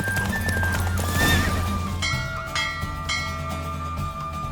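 Horse hooves clip-clop and a horse whinnies during a horse race in The Witcher 3, the galloping steady under game music and effects, fairly close and moderately loud.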